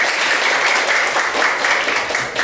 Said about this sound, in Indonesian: Tepuk tangan buat Gus Pujan.